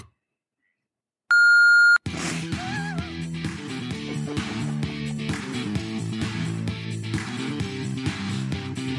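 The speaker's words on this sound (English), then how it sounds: "Please leave a message. Watch the video after the beep." A single loud electronic voicemail beep sounds after a short silence, then music with steady beats and melodies plays.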